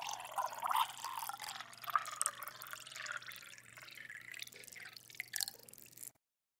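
Coffee pours into a cup as a sound effect, a close, trickling and dripping liquid stream with splashy bursts over a faint low hum, ending abruptly.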